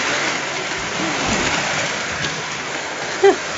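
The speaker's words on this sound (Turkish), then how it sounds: "nasıl yağmur yağıyor" Heavy rain pours down in a dense, steady hiss, with a single short sharp sound near the end.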